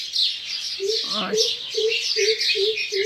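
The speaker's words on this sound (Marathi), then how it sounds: "विजांचा चिवचाट कलकलाटमध्ये सकाळ उजाडली आहे मस्त भारद्वाजचा आवाज सुरू आहे कोकिळा येते कधी मधी" Morning birds call near a home: a run of short, evenly spaced low hoots like a coucal over a bed of dense sparrow chirping, close and lively, with no talk.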